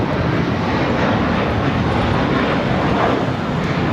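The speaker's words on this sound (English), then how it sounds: "Turkish Flight 180 taking off to Istanbul on the A350-900" A Turkish Airlines Airbus A350-900 takes off from LAX, its jet engines a loud, continuous close roar that holds steady throughout with no voices.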